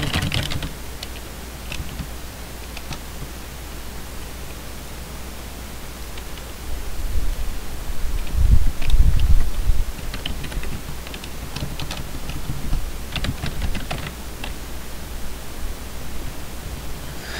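Computer keyboard typing a computer name during a Windows XP installation in VirtualBox, soft scattered keystrokes over a steady hiss of background noise, with a brief low rumble midway.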